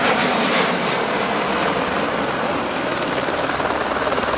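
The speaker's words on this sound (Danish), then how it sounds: "Og Fenwick er jo en af vores små helikoptere, og vi bliver assisteret af F-16 fra højre." Small AS-355 Fennec helicopter flying an airshow demonstration, a steady loud broadband rotor and engine roar holding throughout without pause.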